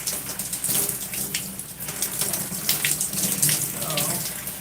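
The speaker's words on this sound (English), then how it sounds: "Rinsing out all these sections" Water from a tap runs steadily close by while hair is rinsed out, a continuous splashing hiss with faint chirps in the background and no clear speech.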